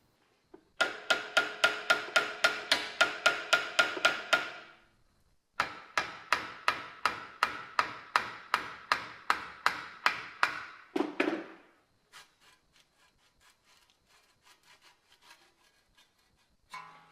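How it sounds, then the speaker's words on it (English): Rapid, even hammer blows on metal and wood in two long bursts, knocking loose the handle of a 110-year-old hand saw, followed by lighter, scattered taps, close by with no talking. "Like all proper men, I resorted to a hammer."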